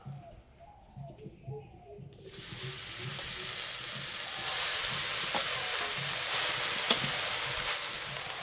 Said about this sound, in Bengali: এই কড়াইয়ে পাতা দিয়ে দেব।